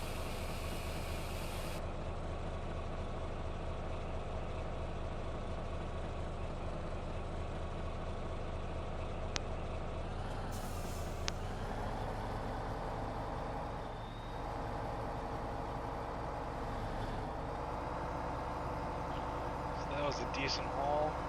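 Truck engine hauling an end dump trailer in Farming Simulator 17, a steady low droning rumble with a shift in tone midway, continuous throughout with someone talking over it.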